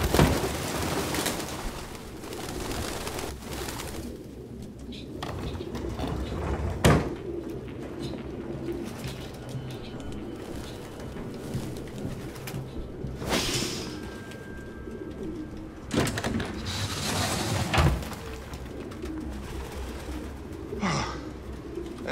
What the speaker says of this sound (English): Birds everywhere.